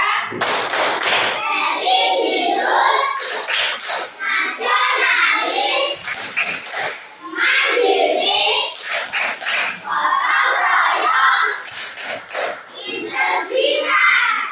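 Classroom children perform the Tepuk PPK clapping chant, chanting together in bursts punctuated by sharp, rhythmic group claps, repeated in several phrases across the passage.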